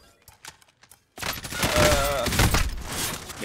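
Rapid bursts of automatic gunfire in the Call of Duty Warzone video game, loud and continuous after a quieter start with scattered shots, and a voice calls out briefly.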